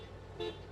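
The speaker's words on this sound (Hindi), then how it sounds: "हॉर्न की जो साउंड है वो काफ़ी सही है" A 2024 Tata Safari seven-seater's car horn gives one short, clear toot in the middle, set against a low steady hum.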